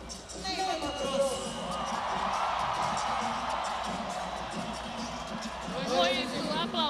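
Crowd at a 2012 carnival tribute concert cheering and whooping as a singer comes on stage, a sustained roar of voices with shouts rising near the end.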